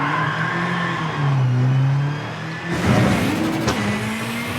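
A rally car engine in V-Rally 4 revs hard and close, its pitch climbing and dropping through gear changes, then a sharp, gritty burst of noise as the car slides over loose ground.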